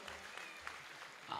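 Villagers at a temple anniversary celebration clap together for the local sound-system crew, a moderate, fairly distant patter of hands with a faint voice mixed in beneath it.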